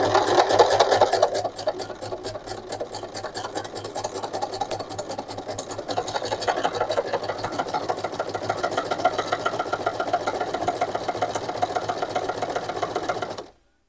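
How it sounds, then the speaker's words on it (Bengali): A Singer SM024 sewing machine stitches an embroidery pattern in a fast, steady mechanical whir of rapid needle strokes, loud and close, running without a break until it stops abruptly at the end. "আমি সি প্যাটার্নে ওয়ান অপশনে দিয়ে এখানে এখন সেলাইটা করব"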